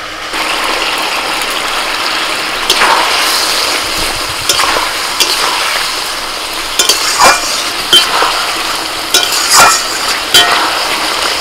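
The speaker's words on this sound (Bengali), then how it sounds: "মশলাটা ভালো করে কষিয়ে নিয়েছি, এবার ভাজা পটলগুলো দিয়ে দিচ্ছি।" Fried pointed gourd (potol) stirred into a cooked spice paste with sour yogurt in a pan, loud close scraping and clattering stirs over a steady sizzle.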